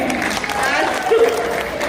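Audience applause for a 50th-anniversary stage performance, a steady dense wash of clapping from a crowd lasting the whole moment, fairly loud and even with no clear break.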